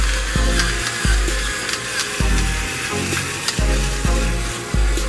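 Beef chunks for an old-fashioned stew braise and brown in a pot with a loud, steady sizzle, broken by rhythmic scraping and stirring strokes from a utensil about once a second, with no voices.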